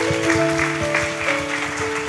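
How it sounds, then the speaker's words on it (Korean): A church congregation clapping during a Sunday worship service, dense steady applause from many hands with sustained organ or keyboard tones underneath. "우리 하나님께 영광의 박수 올리겠습니다"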